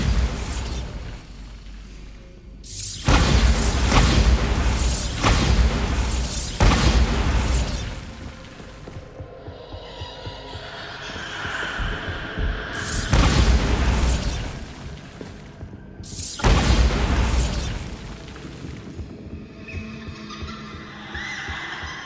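Bombarda blasting spell in Hogwarts Legacy on PS5 sets off loud, booming explosions in repeated heavy bursts, each rumbling for a couple of seconds, with quieter game ambience between them.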